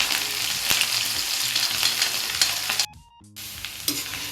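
Six green chillies frying in hot oil with cumin seeds for sabudana khichdi, a steady close crackling sizzle with stirring scrapes, briefly dropping out for a moment before resuming.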